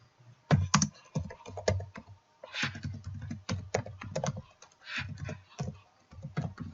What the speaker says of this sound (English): I'm going to type these in